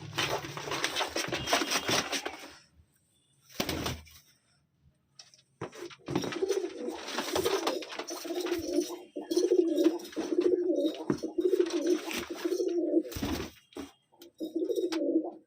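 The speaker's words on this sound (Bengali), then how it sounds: "এই যে পাঁচটা পায়রা" Five pigeons coo nearby in soft repeated bursts, with short stretches of quiet between the calls.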